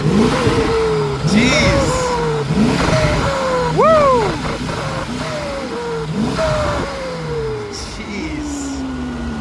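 Turbocharged supercar engine, unmodified with no downpipes or ECU remap, revving hard in repeated loud rising and falling bursts with turbo whoosh at the top, close by, while people exclaim over it.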